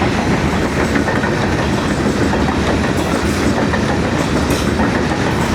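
The Karakoram Express passes through Ranpethani railway station, a loud, steady rumble of wheels and carriages with rhythmic clickety-clack and no voices.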